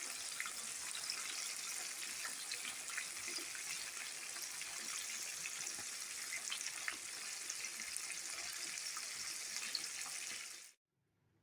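Fish frying in oil in a pan: a dense, even hiss of close sizzling that holds steady for about ten seconds, then cuts off abruptly.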